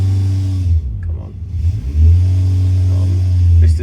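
Engine of a small-port car with a small exhaust, small carburetor and mild cam, loaded hard on a dyno at low revs: a loud steady drone that dips briefly, then surges back to a heavy sustained roar.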